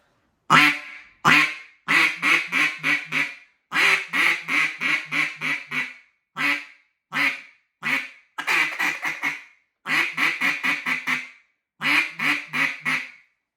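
A J.J. Lares Hybrid duck call blown close and loud at mid-range, producing quick bursts of rhythmic quacks separated by short pauses.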